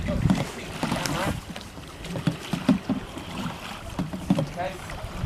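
School group paddling a canoe: soft irregular splashes and dips of paddles in water over wind noise on the microphone, with voices talking throughout.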